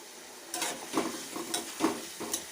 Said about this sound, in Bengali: মশলাগুলি ভাজা ভাজা করছি।